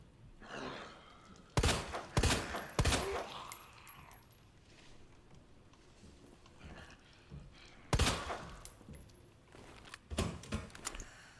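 Gunshots in Resident Evil 2, heard as a few sharp, loud cracks in quick clusters, with quieter gameplay sounds and occasional breathy vocal sounds between them.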